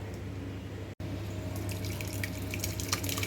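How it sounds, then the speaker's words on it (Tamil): Curdled milk poured through a strainer lined with thin cloth while making paneer, water splashing and trickling steadily and close. "இதை இப்போது நம்ம ஃபில்டர் பண்ணிக்கலாம்."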